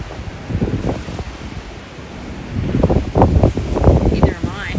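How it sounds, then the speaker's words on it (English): Gusty wind buffets the microphone outdoors at a horse farm, rumbling in bursts that grow stronger toward the end, with a person talking nearby. "Not impressed with this wind."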